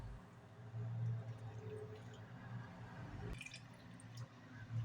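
Brine is poured into a jar of pickled peppers, giving a faint, quiet trickle and drip of liquid with a brief clink partway through.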